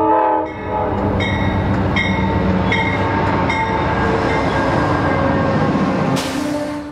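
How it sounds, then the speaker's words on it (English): A passenger train on the City of New Orleans route pulls into the station at Greenwood, Mississippi, after dark. Repeated loud horn blasts sound over a steady rolling rumble of wheels and cars close by. "it's after dark as the train arrives in Greenwood"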